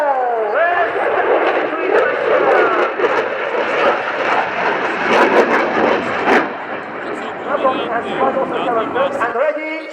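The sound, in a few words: aircraft engine at RIAT 2017 Fairford airshow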